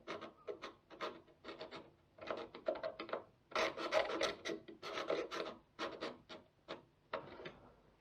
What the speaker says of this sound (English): Just scribe along the top of it